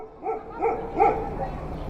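Dogs barking close by, three quick bow-wow barks in a row, loud and sharp.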